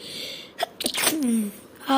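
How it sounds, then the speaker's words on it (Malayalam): A person sneezes indoors, a short sharp burst near the microphone followed by small vocal sounds, fairly quiet overall. "തുമ്മലൊക്കെ ഉണ്ട്."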